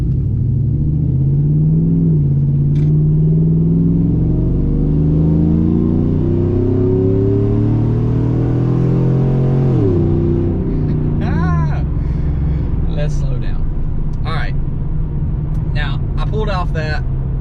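A truck with long tube headers on a factory flex fuel tune with 93 octane runs at wide open throttle, its loud engine note climbing steadily through the revs before a shift drop, then rumbling on as a voice talks over it.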